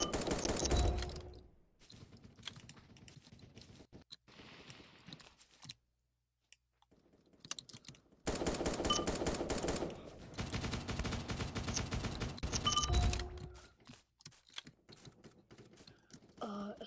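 Rapid bursts of SMG fire in the blocky online shooter Voxiom.io, in a free-for-all match, clustered in several loud rattling stretches separated by brief quiet gaps.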